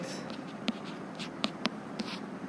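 Handwriting on a board during a maths lesson on sets: a handful of short, scratchy strokes spaced irregularly, fairly faint and close, with no talking.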